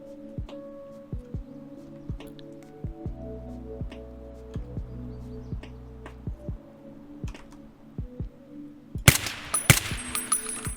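MDR rifle fire in Escape from Tarkov on the Shoreline map, sharp distant single shots spaced irregularly over a low droning hum, ending in a louder close cluster of cracks.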